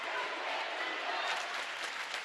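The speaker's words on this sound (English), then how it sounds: "And listen to this crowd." A basketball game crowd cheers in a continuous loud roar of voices and applause filling the arena, holding steady and swelling slightly toward the end.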